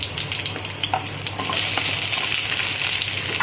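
Garlic cloves and onion frying in a hot pan, a steady bright sizzle that swells louder midway and holds, with faint scrapes of stirring and no voices.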